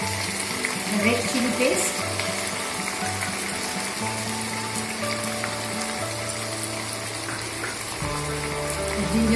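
Onion paste added to browned onions in a pan for Bengali prawn malai curry sets off a steady, close sizzle and frying hiss, with someone speaking briefly over it.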